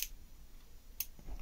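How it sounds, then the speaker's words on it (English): An automotive relay clicks as power is connected across its 85 and 86 terminals: two sharp, faint clicks about a second apart, alone in a quiet room. "So if we connect up a positive and then a negative, we should hear a click"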